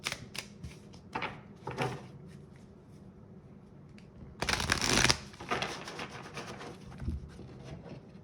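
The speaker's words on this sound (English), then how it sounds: "So now we're gonna pull a Green Witch Oracle card for you." Tarot cards from a Green Witch Oracle deck are shuffled close by, in soft riffles and short bursts with one louder flurry near the middle, and no voice is heard.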